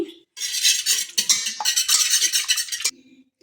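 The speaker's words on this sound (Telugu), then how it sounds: "ఇలాంటి విస్కర్ తీసుకోవాలండి. దీంతో ఫస్ట్ దీన్ని బీట్ చేసుకుందాం ఎగ్ని బాగాని" A wire whisk beats eggs in a bowl for a cake batter, a quick, steady metallic rattle and clatter that runs almost without pause for about three seconds, close and fairly loud.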